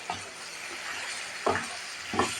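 Red lentils (masoor dal) and mixed vegetables being stirred and fried in a pan, a steady sizzle with three scraping stir strokes over about two seconds, close and moderately loud, no talking.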